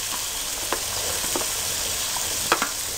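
Masala and green peas frying in a pan with a steady close sizzle, broken by occasional scrapes and clicks of stirring.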